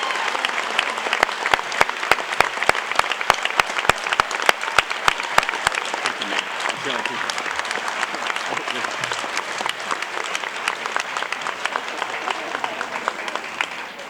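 An audience at a high school honors night applauds loudly and steadily, with dense clapping that fades slightly toward the end.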